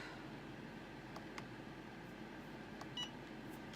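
A kitchen timer chirps once in a short, faint burst near the end as it is reset during baking with parchment paper, barely rising above steady room noise.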